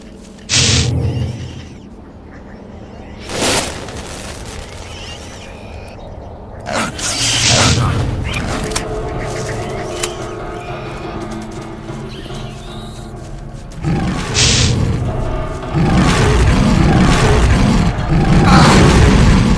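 Gunfire in the S.T.A.L.K.E.R. game, loud booming shots and bursts at irregular intervals over rumbling ambience, some near and sharp, others duller and more distant.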